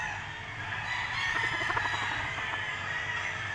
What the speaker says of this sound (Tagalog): So konti na lang yung mga manok dito ni Sir Biboy mga tol.